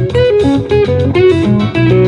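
Electric guitar played through an effects unit, quick string-skipping notes in a repeating patterned rhythm with processed, shimmering tone, loud and close with no talking.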